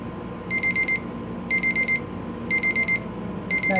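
A timer beeps in repeated bursts of quick electronic pips, four groups about a second apart, loud and close over a low background hum.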